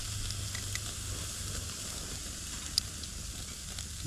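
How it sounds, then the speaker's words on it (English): Steak cooks over a mini fire stove, giving a faint, steady sizzle and hiss with a soft low rumble underneath and one tiny crackle. "Now the fun part of cooking this steak on here."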